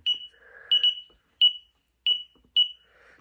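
An Impulsa fire alarm panel signals a phone line trouble condition with short, sharp electronic beeps, about five of them, spaced irregularly with near-silence between. Faint softer tones sit underneath.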